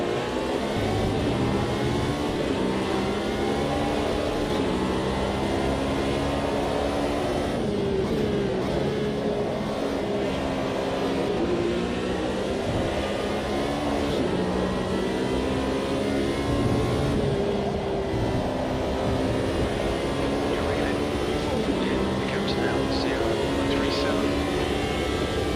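Race car engines in Automobilista 2 roar continuously as a Lamborghini chases a Porsche, with layered engine whines under steady talk.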